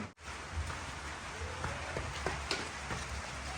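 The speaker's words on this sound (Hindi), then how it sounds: "हल्की हल्की बारिश स्टार्ट हो गई है" Light rain patters softly and steadily outdoors, a faint wash of drops with a few sharper taps, heard alone without voices.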